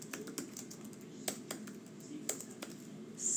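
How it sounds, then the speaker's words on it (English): Typing on a computer keyboard, heard as a quiet, irregular run of distinct key clicks over a low background hum, with no speech. "Sorry for my typing there."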